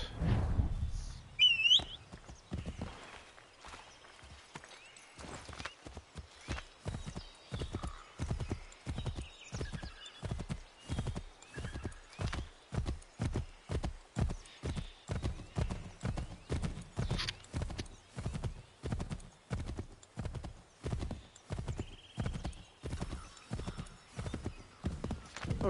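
A horse gallops in Assassin's Creed III, its hooves clip-clopping in a steady, rapid rhythm for most of the stretch after a brief whinny at the start, fairly close and clear.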